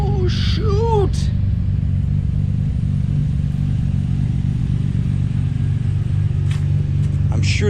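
A Nissan 300ZX Z32 project car, a little smoky with low tires, idles with a steady low rumble throughout, fairly close, while a voice speaks briefly at the start.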